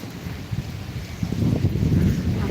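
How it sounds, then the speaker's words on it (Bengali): Cold storm wind blows in a steady low rush that swells louder halfway through, buffeting with a hollow, gusty roar, during the first squall of the season in Chattogram, Bangladesh, as rain begins. "ঠান্ডা ঠান্ডা বাতাস"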